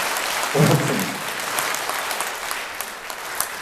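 A lecture audience in a Catholic church hall breaks into a short, loud burst of clapping that quickly fades into scattered claps, with someone speaking briefly as it starts.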